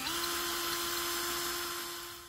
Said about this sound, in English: so it's time to drill a pilot hole.